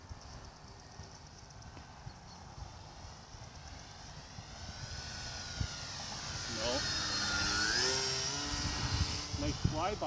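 Master Millennium RC model airplane making a flyby outdoors, its faint engine drone rising and sweeping past in the latter half while people talk nearby.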